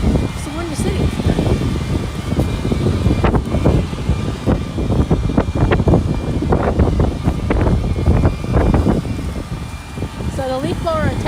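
Strong gusting wind buffeting an outdoor microphone near Chicago during wet snow plowing, loud continuous low rumbling with irregular bursts throughout.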